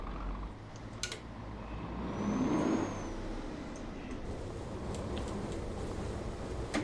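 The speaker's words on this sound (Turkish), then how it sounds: "Otobüsün sesi bu videoda biraz fazla olabilir." A bus engine in the Euro Truck Simulator 2 driving game drones steadily throughout, a loud, close, low rumble that swells slightly around the middle and stays even to the end, with no talk.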